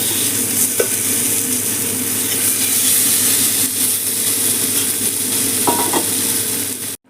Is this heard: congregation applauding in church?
no